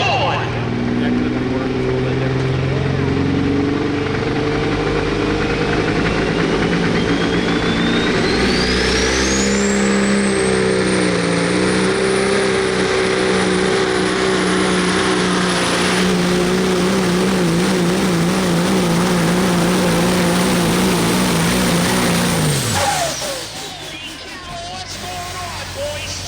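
Mighty Mayhem, a pulling truck once called Rolls Royce, roars at full throttle during an OSTPA truck and tractor pull at the Guernsey County Fair in Old Washington, Ohio. Its engine climbs to a screaming whine and holds there for a long pull, then cuts off abruptly near the end.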